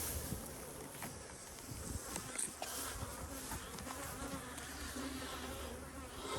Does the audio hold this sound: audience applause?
no